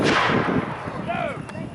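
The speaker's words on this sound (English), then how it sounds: "But they started with a cannon fire." Cannon fire at a Civil War battle reenactment, a loud booming blast that rolls and echoes outdoors across the whole moment.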